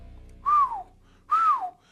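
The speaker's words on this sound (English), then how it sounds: "Double whistle." Two loud, clear whistles, each a short rising-then-falling tone, sounded one after the other with a brief gap, alone and close.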